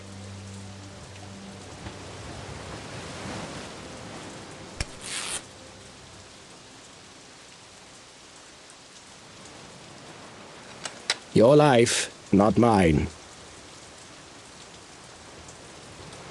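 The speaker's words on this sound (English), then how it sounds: "It must rain here quite frequently, I guess." Steady rain falls throughout a scene in The Dark Eye: Chains of Satinav, a constant soft hiss that runs the whole length, with brief spoken lines breaking in near the end.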